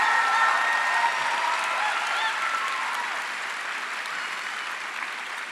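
A large audience at a high school graduation applauds students who have earned varsity letters, with dense, sustained clapping that fades slightly toward the end.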